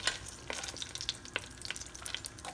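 Chopped garlic sizzles quietly in a tablespoon of oil, with soft crackling pops and scattered spatters coming and going, fairly faint and close, with no talk over it.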